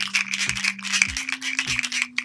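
Terror Claws Skeletor Masters of the Universe action figure, its claws clapping and wobbling in a quick series of close, loud plastic rattles over a steady hum.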